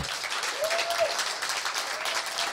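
A live audience at a Hearthstone esports finals applauds steadily, a dense wash of clapping filling the hall at even loudness throughout.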